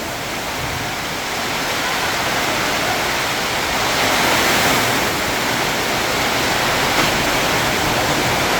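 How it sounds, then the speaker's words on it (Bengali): Heavy rain pours steadily in a violent storm with strong wind, a dense continuous roar that swells slightly midway, heard close by on a rural homestead with tin roofs and mango trees. "তো আজকে আমাদের এখানে প্রচুর পানি হচ্ছে আর কি"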